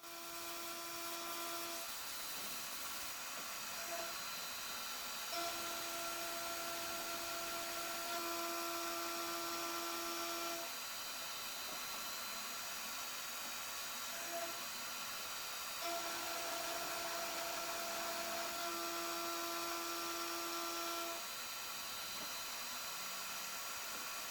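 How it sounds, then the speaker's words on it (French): A milling machine cutting a keyway into a broken shaft with an 8 mm end mill, a long steady high-pitched whine with the tone shifting between passes, and no voices. "je prends une petite fraise de 8 mm, on va faire l'ébauche et la finition"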